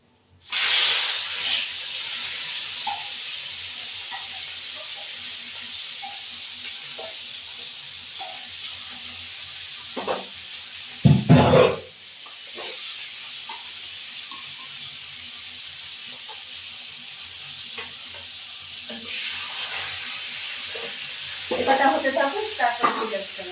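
Pieces of katla fish fry in hot oil with a steady, close sizzle and hiss. Midway comes a brief loud clatter, then more crackling and spatter near the end, with no voices.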